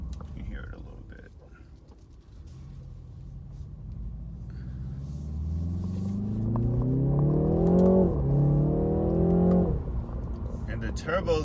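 A 2019 BMW 330i with a turbocharged four-cylinder pulls hard from inside the cabin, the exhaust drone climbing steadily in pitch through two gear changes, moderately loud and muffled, with a voice speaking faintly over it.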